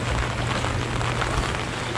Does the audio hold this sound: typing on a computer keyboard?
no